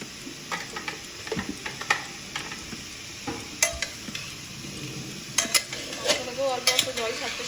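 Chicken pieces frying in a pan for a stew, a soft steady sizzle broken by scattered clinks and scrapes of a spatula stirring against the metal, fairly quiet with no talk.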